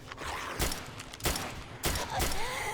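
Gunshots aimed at armored zombies in the 7 Days to Die game with an Escape From Tarkov mod, four separate booming shots spaced roughly evenly over a few seconds, moderately loud.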